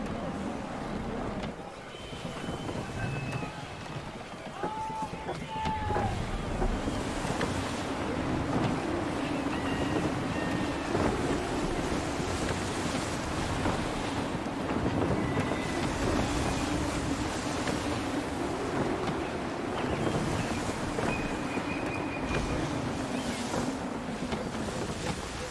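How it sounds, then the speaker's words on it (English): Gusty wind and rolling ocean waves surround a sailing ship at sea in Assassin's Creed 3, a steady broad rush that fills the whole stretch, with faint creaks and a few brief tones over it. "Wind looks to be shifting. Stay alert, Connor. Gusty winds can be difficult to manage."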